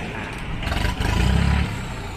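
A used Iseki NT540R tractor's engine runs steadily up close, a rough mid-pitched mechanical drone with some clatter, swelling slightly in the middle before settling.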